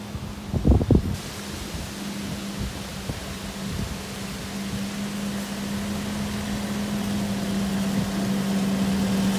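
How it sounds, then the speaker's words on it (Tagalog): A vacuum cleaner runs with a steady droning hum and airy rush that grows slightly louder over several seconds, after a brief knock or thump near the start. "vacuum cleaner"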